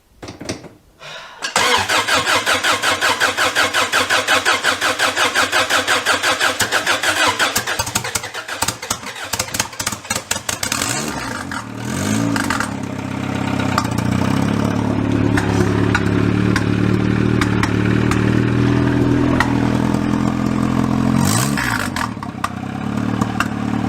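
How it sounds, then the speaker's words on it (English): A Honda Prelude engine rescued from a scrap yard cranks briefly, then catches and runs roughly, loud and close, with rapid sputtering pops and backfires before settling into a rough, uneven idle. "I think it's backfiring through that, but it's running."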